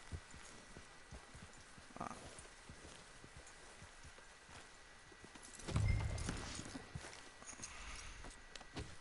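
Steady clip-clop of horse hooves walking along, with a louder thump partway through and a low background hum, in the video game Red Dead Redemption 2.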